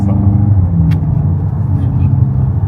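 A Volkswagen Golf 8 GTI Clubsport engine runs with a deep, steady rumble close by, a low throaty drone that holds throughout with slight swells.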